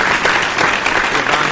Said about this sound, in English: Let's give a round of applause for our YouTube friends